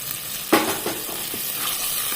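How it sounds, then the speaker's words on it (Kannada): Thinly sliced onions frying in melted butter for a chicken masala, a steady close sizzle with a sharp stirring knock and a few softer scrapes of the spoon. "ಈರುಳ್ಳಿ ಒಂದು ಸ್ವಲ್ಪ ಕೆಂಪಗಾಗೋ ತನಕ ಫ್ರೈ ಮಾಡಿದರೆ ಆಯಿತು"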